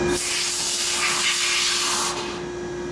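Compressed air hissing steadily from an air nozzle in a workshop, a loud close broadband blast that drops slightly near the end, with no talk.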